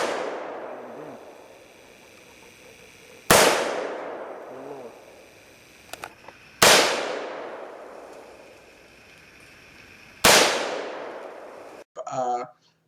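Rifle fired outdoors at a milk jug, three loud, sharp reports a few seconds apart, each with a long echoing decay, followed by a short burst of voices at the end.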